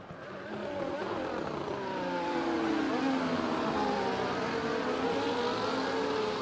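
F1 race cars in a sim racing league video game roar down the straight at Bahrain, slipstreaming one another; steady, loud engine drone with overlapping rising and falling engine pitches, no talk.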